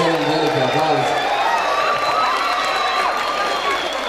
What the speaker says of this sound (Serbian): Služimo još jedan veliki aplauz.